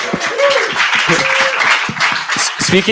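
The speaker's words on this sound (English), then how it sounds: "Round of applause for Sandra here" An audience gives a round of applause, a steady wash of clapping that runs the whole time while people talk and call out over it.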